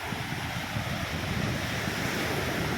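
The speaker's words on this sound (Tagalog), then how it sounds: "Yan laki ng alon mga ka-road trip oh." Sea waves at Jumeirah Beach, Dubai, crash and rush in a continuous near roar, mixed with buffeting wind on the microphone, with no talking.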